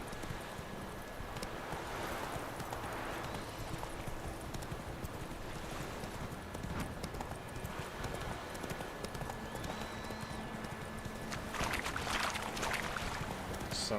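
Roach, a horse in The Witcher 3, gallops steadily with a continuous clip-clop of hooves over a windy outdoor backdrop, the hoofbeats growing slightly louder near the end.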